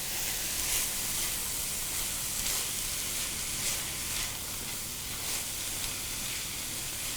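Butter sizzles and hisses steadily in a pan of sautéing mixed vegetables, a continuous close frying crackle with faint stirring clatter and no talking.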